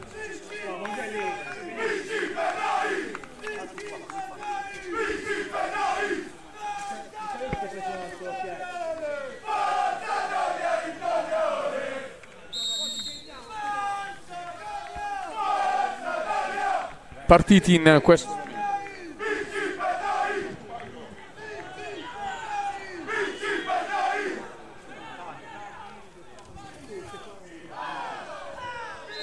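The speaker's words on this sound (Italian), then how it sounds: "sentite in sottofondo i cori dei supporters del Manfredonia Calcio che incoraggiano la squadra" At a Modugno versus Manfredonia Calcio soccer match, supporters' rhythmic chanting carries on steadily beneath a commentator's speech, with a sharp whistle and a brief loud burst in the middle.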